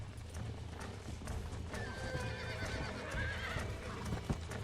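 Horse hooves clip-clopping along with a whinny in the Western video game Red Dead Redemption, heard fairly quietly with faint game ambience.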